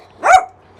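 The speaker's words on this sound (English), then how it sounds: "You know why he's barking at me?" A single sharp bark from a dog tangled up and stuck outdoors on a sunny day, one short loud yelp rising and falling with quiet surroundings before and after.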